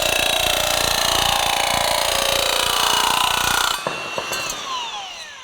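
A Milwaukee M12 Fuel 16-gauge cordless nibbler chews through a metal stud with a loud, continuous rapid chattering buzz, then stops abruptly and the motor winds down with a few faint clinks.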